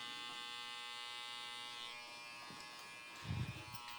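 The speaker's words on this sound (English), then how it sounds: "I'll do a little detail kind of with the trimmer, just like that." An electric hair trimmer buzzes steadily and up close while detailing a haircut, a continuous even drone that ends with a few soft bumps.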